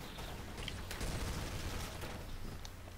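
Gunfire in the video game Counter-Strike: Source: rapid, overlapping bursts of shots forming a dense, continuous crackle of combat noise across the whole short stretch.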